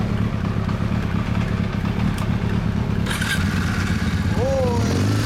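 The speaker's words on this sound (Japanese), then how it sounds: "エンジン音聞かせてもらえる？" A 2004 Kawasaki W400 motorcycle engine with stock muffler idles steadily nearby with a low, even rumble, while people talk over it.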